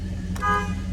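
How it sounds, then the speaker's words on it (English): A 1971 Oldsmobile Cutlass horn gives one short toot over the steady low hum of the idling engine. "Horn works."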